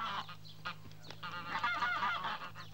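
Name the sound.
wild geese honking, from animated series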